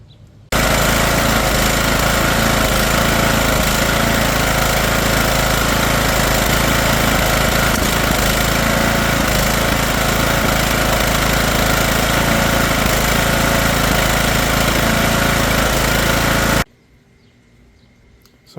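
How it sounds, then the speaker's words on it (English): A riding lawn mower's small petrol engine runs steadily after carburetor cleaning, a loud, close, continuous idle with a throbbing drone that holds for about sixteen seconds before cutting off into quiet. "the engine seems like it's going to run"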